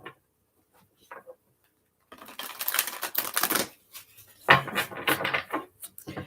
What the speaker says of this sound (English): Let's give it a couple shuffles.